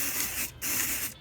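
A spray bottle mists liquid onto a shirt for post-apocalyptic weathering, two sustained hissing sprays split by a brief pause, with a short burst starting at the end, close and fairly loud.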